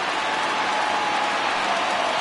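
A large stadium crowd of over 39,000 roars steadily on its feet at a baseball game in MLB The Show, a dense continuous cheer with no pauses.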